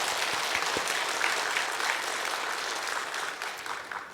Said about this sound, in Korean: 여러분 잘했다고 생각하시면 한번 박수 한번 해주시기 바랍니다.